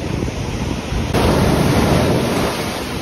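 Strong ocean surf breaking on a beach at Paraty, Brazil, a loud continuous roar of waves with heavy wind buffeting the microphone and a surge midway, no talk.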